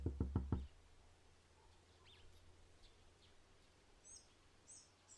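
Knocking on a door in a Doki Doki Literature Club video game mod: four loud, rapid knocks at the very start, followed by quiet ambience with faint bird chirps and no voices.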